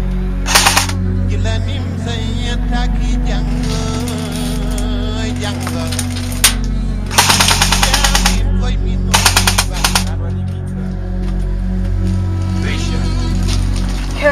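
Rapid bursts of airsoft rifle fire crackle during an outdoor airsoft game, with several short volleys standing out over steady background noise and occasional voices nearby.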